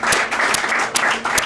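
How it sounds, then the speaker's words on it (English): Applause from an audience at a campaign event for Chokwe Lumumba: dense, steady clapping that carries through the full moment with no break, close and fairly loud, with no one speaking over it. "we want to make sure that we continue to applaud them"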